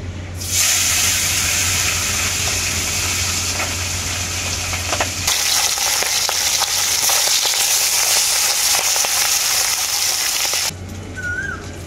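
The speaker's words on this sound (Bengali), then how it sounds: "বাকি মাছগুলো আমি একইভাবে ভেজে নেব।" Small puti fish frying in hot mustard oil, a loud continuous sizzle and hiss close by with faint crackling, steady throughout with a brief dip near the end.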